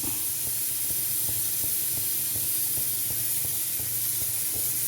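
Mustard seeds spluttering in hot oil in a pan while cooking pork curry, a steady loud sizzling hiss with rapid irregular pops throughout.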